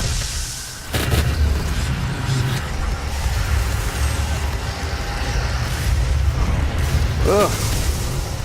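Grenade explosions in the video game DOOM SnapMap, with a sudden heavy boom followed by sustained rumbling and another blast later, over continuous game noise.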